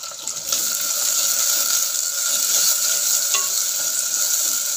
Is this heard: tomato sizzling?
yes